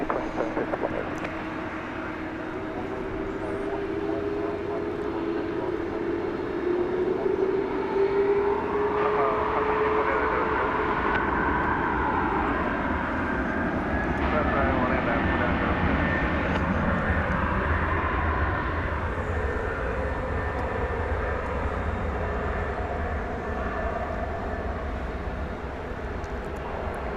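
A jet airliner takes off from DFW Airport, its engines building into a loud, sustained roar with rising and sliding whine tones that swell and hold over the rumble, no talking.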